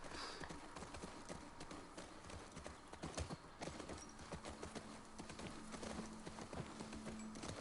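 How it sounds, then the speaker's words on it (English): A horse's hooves clip-clop steadily in The Last of Us Part II, a quick, even trotting rhythm heard close but fairly quiet among soft ambient game noise. "There's just a one horse here, and it's mine."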